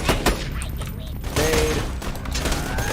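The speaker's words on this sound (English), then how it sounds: "it functions very well as a battle rifle. And heavy caliber round." Heavy-caliber battle rifle firing in a Borderlands-style shooter game, several sharp shots in quick succession over a busy game soundscape.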